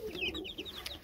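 Young chicks clucking and cheeping close by, a quick run of short high chirps and soft clucks spread across about a second, with no talk over them.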